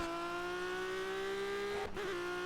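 A Renault Sport RS01 race car in Project Cars drones steadily at high revs through sweeping turns on the Bannockbrae road circuit, with a brief dip and wobble in pitch as it shifts or lifts, loud and continuous.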